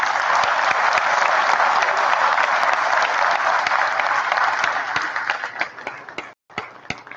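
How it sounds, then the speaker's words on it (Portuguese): A large audience at a debate event gives sustained, loud applause, a dense even roar of clapping that thins into scattered claps and fades out at the end. "Peço mais uma vez uma salva de palmas por esse excelente debate."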